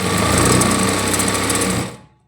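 Sewing machine stitching the front panel of a size 28 boatneck princess-cut blouse, running in one loud, steady close burst for about two seconds, then stopping.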